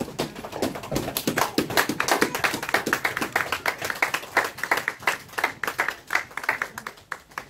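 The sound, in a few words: congregation clapping and acclaiming the Lord in church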